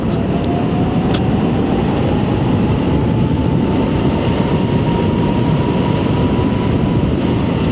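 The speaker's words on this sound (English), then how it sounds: "Okay, let's get on the throttle." A 72V-swapped e-bike accelerating hard on the throttle, its motor whine rising slowly in pitch beneath loud, constant wind roar, with no talking.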